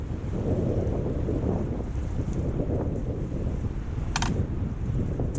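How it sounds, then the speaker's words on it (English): Strong wind buffeting the microphone in a constant low roar, with a brief faint high chirp near the end. "you can also hear how windy it is today"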